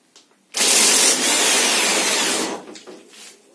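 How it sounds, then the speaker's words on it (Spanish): An electric impact wrench on a Bosch alternator pulley from a Nissan Platina: one loud, close burst of harsh whirring and rattling that lasts about two seconds, then winds down, with faint clicks before and after. "Con la llave de impacto eléctrica."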